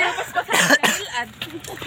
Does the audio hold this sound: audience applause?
no